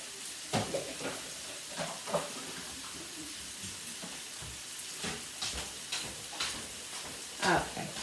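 Garlic and onions frying in a pan, a soft, steady sizzle broken by scattered crackles and pops, fairly faint and close, with no speech over it.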